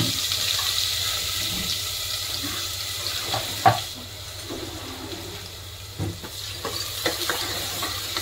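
Chopped onion dropped into hot oil in a pan for a chickpea curry, giving a steady sizzling hiss throughout with a few soft clinks and knocks of utensils in between.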